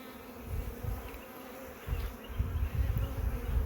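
Honeybees drone in an open hive as frames are inspected, a close, continuous buzz that swells and fades as the insects move. No talk.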